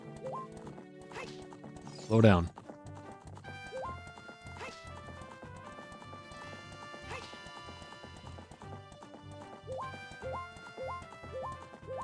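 Galloping hooves of a horse in the Zelda 64 Spaceworld '97 beta, a steady clip-clop rhythm over game music, with one loud burst near the start and a voice speaking briefly.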